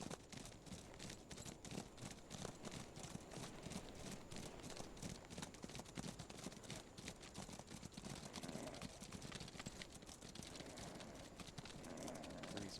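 Cavalry horses' hooves clip-clop on the ground in the War of Rights video game, a quiet, busy patter of many steps running continuously at a distance.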